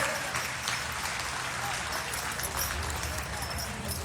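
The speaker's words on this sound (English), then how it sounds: "How about a round of applause for Bowman and Weiss?" A state fair audience claps during a heavyweight field event, a dense, steady patter of applause that holds at an even level throughout, with some talk mixed into the crowd noise.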